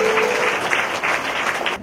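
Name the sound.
congregation clapping loudly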